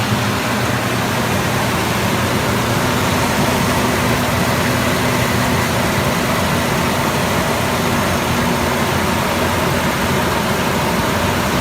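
A 2004 Ford Explorer engine idles steadily and evenly, a loud, close, continuous low hum with no voices over it.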